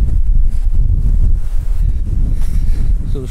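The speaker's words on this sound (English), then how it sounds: "That's windy, isn't it?" Strong gusty wind buffets the microphone with a steady low rumble and roar, continuous throughout.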